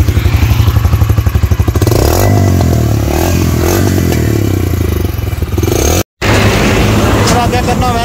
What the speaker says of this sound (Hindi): थोड़ी जी रेव कर सें चौधरी,